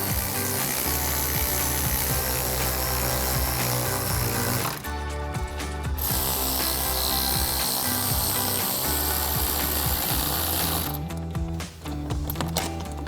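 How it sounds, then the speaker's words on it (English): A hand ratchet with an extension and 11mm socket tightens the intake clamps on an AFE Momentum GT cold air intake for a 2016-2024 Camaro SS, giving a loud, steady run of close clicking with two brief pauses. "So I'm gonna grab my ratchet, extension, and 11mm socket. Tighten all 4 of these down."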